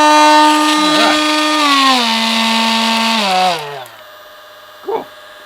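A 21V brushless Excited Work oscillating multitool runs at its lowest speed with a loud, steady buzzing drone that slowly drops in pitch before winding down to near silence, followed by a brief knock.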